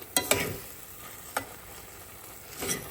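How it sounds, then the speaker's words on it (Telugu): Capsicum paneer curry masala with coriander powder and chilli powder frying in a pan, a few sharp scraping stirs standing out over a soft, steady sizzle. "ఒక్కసారి మంచిగా మిక్స్ అవ్వనిచ్చి మళ్ళీ ఒక 2 నిమిషాలు అట్లా ఫ్రై అవ్వనిద్దాము"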